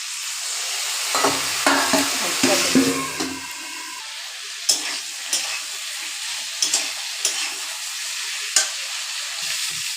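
Spice masala with potato and taro sautéed in a pan for a hilsa fish curry, with a spatula stirring and scraping in quick strokes early, then a few sharp taps over a steady sizzle, close and clear.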